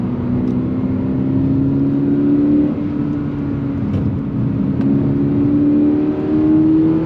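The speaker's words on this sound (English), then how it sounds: "And then you just let the revs pull and pull and pull." A sports car engine revs up under acceleration, its pitch climbing steadily, dropping briefly at a gear shift, then rising again. The sound is loud, close and continuous.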